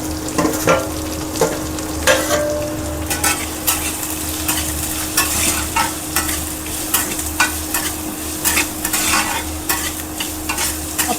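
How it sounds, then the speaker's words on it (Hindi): Onions fry in a pan with a constant sizzle while a spoon scrapes and stirs repeatedly, sharp irregular clinks and scrapes standing out close and loud, with no voices. "अब प्याज को ब्राउन होने तक भून लेंगे।"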